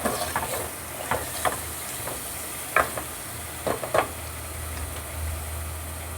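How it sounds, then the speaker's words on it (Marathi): A spoon stirs and scrapes through food in a hot pan while making puran poli, with scattered sharp clinks over a soft steady sizzle. "तर मी हे छान हलवते"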